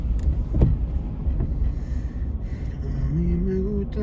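A car drives through a small town in Columbia, Tennessee, with a steady, close road and engine rumble throughout and a rising whine near the end.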